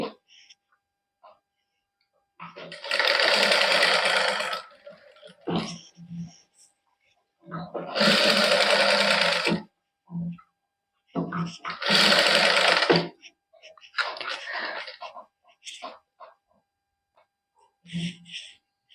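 Electric sewing machine stitching lace onto a plain suit in several loud, rapid whirring bursts of a few seconds each, separated by quiet pauses where someone talks and fabric is handled.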